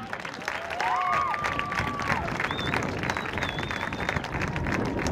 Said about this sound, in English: Let's get a big round of applause for the Panhandle State Rodeo team.